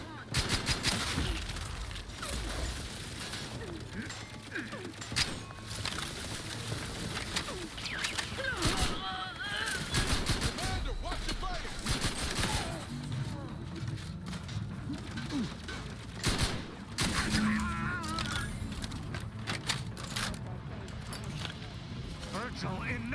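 Rapid bursts of gunfire from a gun in the video game Outer Worlds 2, repeating in rapid volleys throughout amid a dense, busy game mix, with voices talking over much of it.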